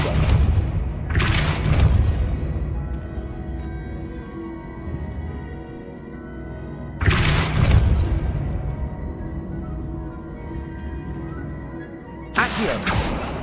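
Depulso spell casts in Hogwarts Legacy land as three heavy, booming bursts spaced several seconds apart, each a loud thumping blast followed by a fading rumble.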